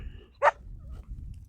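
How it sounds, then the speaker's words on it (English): A single short dog bark sounds at a moderate distance across open desert ground while out rockhounding for agate near McDermitt, with quiet wind rumble around it. "That's a dog."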